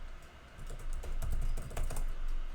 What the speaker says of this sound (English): and I'm going to type my password.